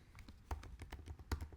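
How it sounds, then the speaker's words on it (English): Quick, uneven keystrokes on a computer keyboard while entering text in Boardmaker software, a close, clear clatter of several taps with two sharper strikes, no talking. "simply click and start typing."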